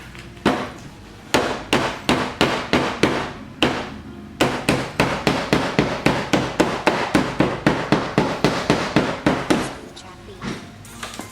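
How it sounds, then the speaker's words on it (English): A hammer strikes repeatedly on an Acura TSX wagon while rolling its fender, in a fast, regular rhythm, sharp close-up knocks in two runs separated by a brief pause, tapering off at the end. "So I just get the hammer."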